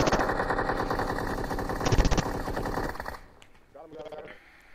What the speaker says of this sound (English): shots at Picado.